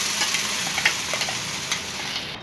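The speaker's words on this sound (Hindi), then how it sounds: "घी गरम हो गया है। मैं इसमें अदरक का शुगर का पेस्ट डालूँगी।" Ginger and sugar paste sizzling in hot ghee, giving a steady, fairly faint crackling hiss with a few small pops and stirring clicks, and no talking.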